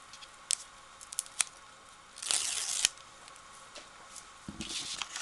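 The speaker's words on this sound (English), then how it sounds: "This is exciting watching me peel this off" Backing is peeled off a card stamp sheet in a few soft crackling tears and light ticks, close and quiet, with one longer ripping stretch in the middle.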